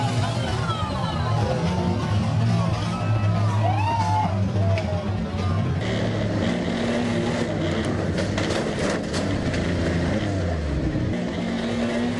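Motocross bike engines roar loudly and continuously in an arena, with rising and falling revs overlapping from several machines, mixed with a commentator talking over the noise.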